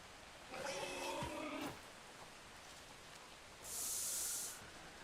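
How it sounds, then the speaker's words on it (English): A spray gun in the video game Bootstrap Punk, one short, quiet burst of hissing spray standing alone after a brief tonal game effect. "spray gun."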